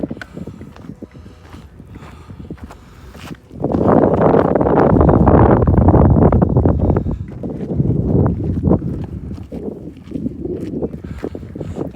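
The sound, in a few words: wind on a desert hiking trail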